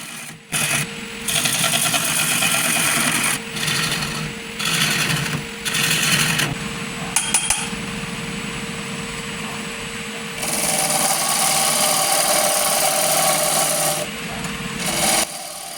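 Gouge cutting a camphor laurel bowl spinning on a wood lathe, a loud continuous hissing scrape broken into bursts as the tool meets and leaves the wood, heard close up with no voices.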